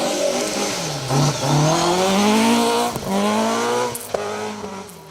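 A rally car blasts past on a gravel forest stage, its engine screaming up through the gears with sharp revving, shifts and popping, loud and close before trailing off.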